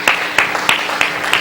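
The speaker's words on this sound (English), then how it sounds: "Would you give everybody up here on the panel one more big hand clap" Applause for a discussion panel in a church, heard as a handful of sharp, evenly spaced claps in a steady rhythm over a soft room background, fairly loud and close, with no talking over them.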